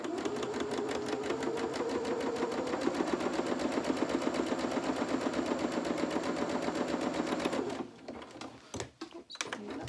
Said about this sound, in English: So that it'll interfere with the actual stitching of the sewing machine.